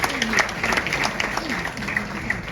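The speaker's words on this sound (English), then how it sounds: "That deserves a round of applause." Round of applause from an audience at a Ghanaian public event honoring a youth employment agency CEO, steady dense clapping with voices mixed in over the whole stretch.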